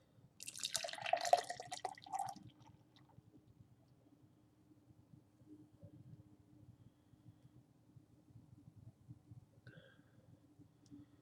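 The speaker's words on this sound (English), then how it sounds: "let's pour it right down the middle as they suggest" Second Self Nitro Mole Porter poured from a can into a glass, a brief liquid splash and trickle at the start fading to a quiet fizzing settle.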